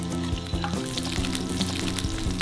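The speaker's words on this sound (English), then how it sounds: "add in a bit of oil, and then in goes my egg" An egg fries in oil inside an onion-slice ring, giving a steady, close crackling sizzle with scattered pops throughout.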